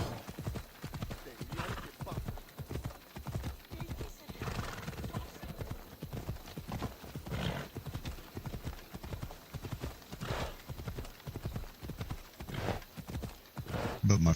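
Horse galloping in the video game Assassin's Creed Odyssey, a steady rapid clip-clop of hooves running throughout at close range, with an occasional whinny and some voice in the background.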